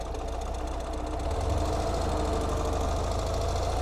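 A modern Ural two-wheel-drive sidecar motorcycle with shaft drive idles steadily as the clutch is slowly released. It gives a close, continuous low engine drone with a rhythmic knocking pulse and grows slightly louder partway through.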